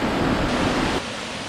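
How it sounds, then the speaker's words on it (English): A waterfall rushes in a dense, continuous roar that holds steady and close for the whole moment, with no voices over it. "You can hear the falls now."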